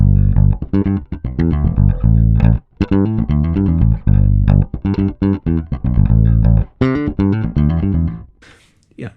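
A bass guitar plays a busy funk line of quick plucked minor pentatonic notes with short gaps, close and loud.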